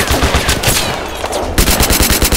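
Loud rapid bursts of machine-gun fire crackle close by in the war game Mud and Blood, with a brief lull before the fast volleys resume.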